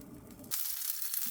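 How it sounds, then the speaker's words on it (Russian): Lavash flatbread frying in a pan on a home stove makes a steady, close sizzle, first under a low rumble that cuts off halfway, then a bright hiss alone. "Теперь ждем, пока он немножечко прожарится, потом его перевернем."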